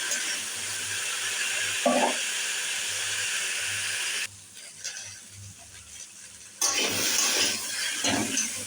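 Cut and washed potatoes lightly frying in a pan for aloo chhechki, a steady close hiss with a few soft stirring scrapes and a brief quieter stretch midway.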